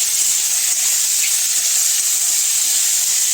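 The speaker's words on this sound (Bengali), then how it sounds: "এগুলো এখন ভাজবো একটু হলুদ লবণ দিয়ে" Mushrooms fry in a pan with turmeric and salt, producing a loud, dense, unbroken sizzle heard up close with no talking.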